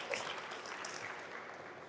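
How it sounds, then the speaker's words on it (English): Applause from a conference audience at a blockchain developer event greets a speaker taking the stage, a steady, fairly faint wash of clapping that holds through without pause. "Everyone give it a big round of applause."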